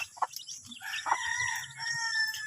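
Three-day-old chicks peep with high, bright chirps, several overlapping calls close by over a low background murmur.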